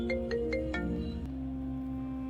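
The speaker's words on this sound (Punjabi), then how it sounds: "ਇਹ ਕਿਹਦਾ ਫੋਨ ਆ ਗਿਆ? ਲੈ ਕਰਮਦੀਨ ਦਾ ਫੋਨ ਆ ਗਿਆ।" A mobile phone ringtone plays a few quick tonal beeps, then settles into a sustained melodic tone, fairly close and clear with no talking.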